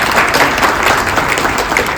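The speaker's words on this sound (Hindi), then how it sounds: "मैं चाहूंगी जोरदार तालियों के साथ हम स्वागत करेंगे" Loud, dense applause from an audience welcoming the chief guest at a celebration event, continuous and close throughout the short stretch.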